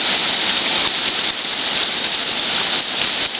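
Heavy rain falls steadily outdoors, a dense, continuous hiss of water hitting surfaces that stays loud and even throughout with no talk over it.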